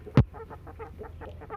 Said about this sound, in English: This is male chicken, and 3 of them is female chicken.